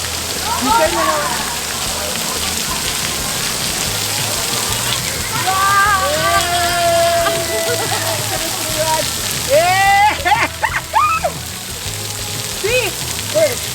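Rain falling outdoors as a constant loud hiss and spatter of water, with children's voices shouting and squealing over it at intervals.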